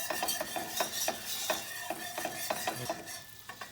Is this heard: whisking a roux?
yes